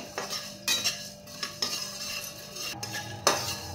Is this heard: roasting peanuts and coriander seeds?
yes